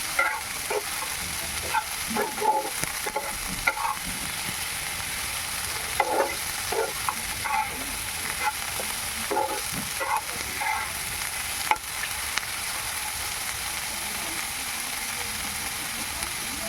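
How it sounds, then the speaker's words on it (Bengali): Onions fry on high flame in hot oil, sizzling steadily, with scraping and stirring noises breaking in now and then; close and continuous, with no talking. "পেঁয়াজগুলোকে আমি ভালো করে লাল লাল করে ভেজে নেব"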